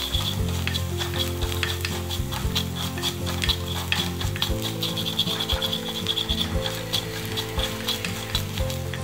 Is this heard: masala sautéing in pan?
yes